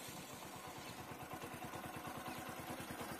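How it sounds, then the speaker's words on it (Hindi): Motorcycle engine idling just after an oil and filter change, a steady rapid putter of even firing pulses, close and continuous with no voices. "तो दोस्तों ये बाइक को ऑन कर दिया है"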